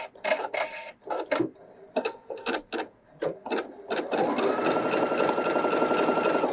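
Pfaff Creative Icon 2 embroidery machine sewing a cut stitch, first short stop-start bursts of rapid mechanical stitching, then a continuous fast whirring clatter, close and clear.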